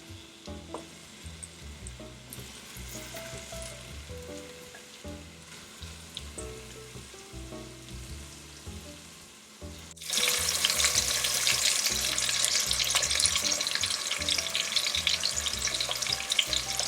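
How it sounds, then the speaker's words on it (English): Sliced potatoes fry gently in a pot for Persian tahdig: a quiet sizzle with soft clicks first, then a sudden louder, steady crackling hiss as the potatoes hit hot oil, continuing alone. "adding the sliced potatoes, and let them gently fry"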